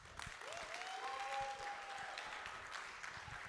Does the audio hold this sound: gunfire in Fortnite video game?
no